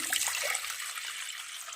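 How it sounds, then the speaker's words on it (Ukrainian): Cold tap water poured into a pot to make a chilli pepper pickling marinade, a steady close splashing rush lasting under two seconds with no talk. "Висипаю воду."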